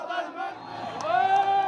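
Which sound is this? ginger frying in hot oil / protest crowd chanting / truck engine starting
protest crowd chanting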